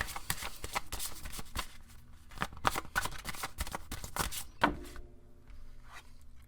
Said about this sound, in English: when I started shuffling these cards right now